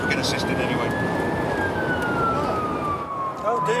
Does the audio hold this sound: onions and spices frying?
no